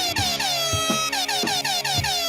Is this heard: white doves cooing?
no